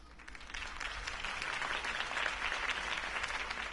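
Sustained audience applause fills a campaign rally for Harvey Dent after his speech, a dense, steady wash of clapping from a large crowd at moderate distance, with no talking over it.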